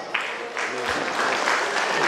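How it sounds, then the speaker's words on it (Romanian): Audience at a folk customs and traditions festival breaks into applause, a dense, steady clapping that starts abruptly and carries on to the end. "Vă rog copii, vă rog să-i aplaudați"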